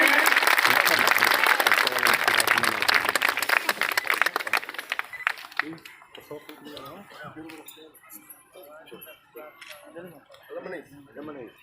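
An audience applauds to honour an MLA at a public felicitation ceremony, dense clapping for about five seconds before it fades into scattered claps, clinking and murmuring voices.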